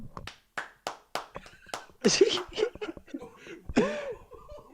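A man claps his hands in a quick run of sharp, close slaps, mimicking another man clapping, before animated talk and laughter take over.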